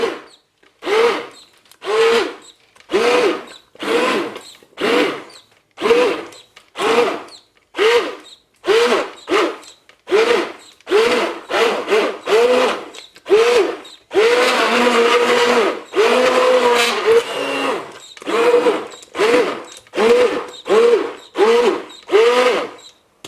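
A handheld blender purees vegetable soup in a saucepan, running in repeated short pulses of buzzing whir and then a longer continuous stretch, close and loud.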